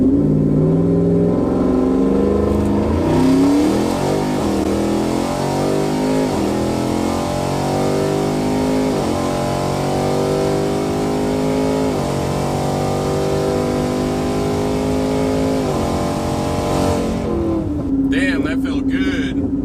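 A regular cab, short bed, four-wheel-drive Ford F-150 with a twin-turbo 5.0-liter engine on 93 octane launches at wide open throttle, its loud engine roaring steadily and climbing through rising gear pulls with no talk over it.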